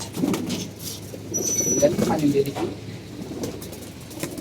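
Pigeons coo in a loft in soft, repeated low calls, close by, mixed with someone talking and faint rustling.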